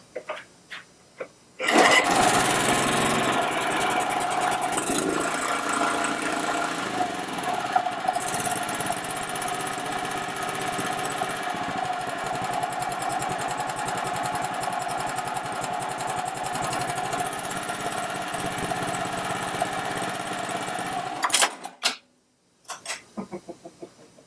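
A lawn mower engine is pulled into life on choke and then runs steadily, a loud, continuous mechanical drone close by that lasts about twenty seconds before cutting out abruptly.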